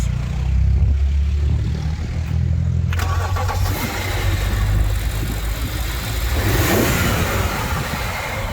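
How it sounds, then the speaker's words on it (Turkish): A BMW 745i eight-cylinder engine cranks and catches, settling into a loud, rough idle close by, with a brief rev partway through. "Çalıştırıver arabayı."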